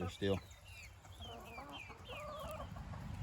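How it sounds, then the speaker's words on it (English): Quiet clucking and soft chirps from a few chickens, with one brief louder squawk near the start, fairly faint and distant. "But chickens are chickening."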